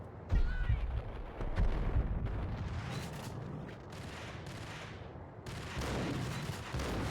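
Enemy Uzi gunfire rattles from a bridge in the Max Payne video game: dense, loud bursts of automatic fire that run almost nonstop for several seconds, easing briefly before surging again.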